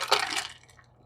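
A coconut water cocktail is poured into a glass all at once, a close, loud splashing rush that tapers off within a second.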